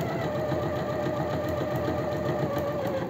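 A domestic sewing machine runs a long basting stitch on dress fabric, giving a steady, close, rapid mechanical whirring and ticking that continues evenly throughout without talk.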